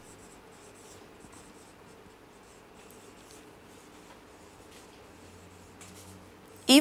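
Marker or chalk scratches faintly and intermittently on a classroom board as rhyming words from an English poem are written out, soft strokes over quiet room tone with a sharp knock at the very end.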